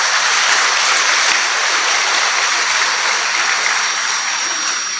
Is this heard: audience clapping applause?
yes